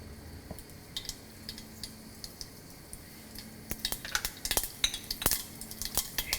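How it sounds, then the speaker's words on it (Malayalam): Mustard seeds popping in hot coconut oil in a pan, making a scatter of small sharp crackles and ticks that start sparse and grow denser and louder toward the end. "ഇപ്പോൾ കടുക് നന്നായിട്ട് പൊട്ടിയിട്ടുണ്ട്."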